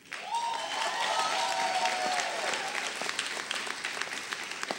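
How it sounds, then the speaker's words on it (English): An audience at a Martin Luther King commission event in a college hall breaks into sustained applause, a dense wash of clapping that swells quickly and slowly thins out. "we want to give him a great round of applause"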